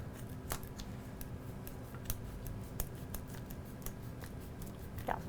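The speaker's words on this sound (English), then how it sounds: "I found the easiest way to get these out is to cut around all the edges" Scissors snip around the edges of delicate grain-free keto ravioli with a series of sharp, faint, irregularly spaced clicks over a low steady background hum. No one speaks.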